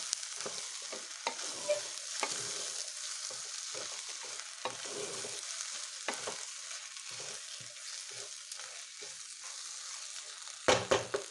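Quiet sizzling of vegetable rice in a pan with repeated scraping and stirring strokes, ending with a few louder clanks near the end.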